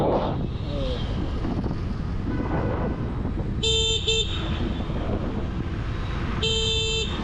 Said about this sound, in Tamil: நம்ம வண்டி ஹார்ன்